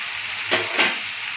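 Soya chunks dropped into a hot pan while cooking veg soya noodles, a loud steady frying sizzle with two brief surges of crackle as the pieces hit the oil.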